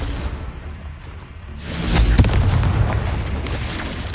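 A Confringo explosion spell from the video game Hogwarts Legacy, a low rumbling boom that builds over a couple of seconds and lingers as a loud, rolling blast.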